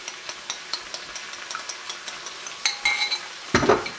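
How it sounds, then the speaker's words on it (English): Eggs beaten in a bowl, a rapid series of light clicks and taps of utensil against the dish, faint at first and then louder and busier toward the end, with a clatter near the close. "And then we're just going to take and beat our eggs."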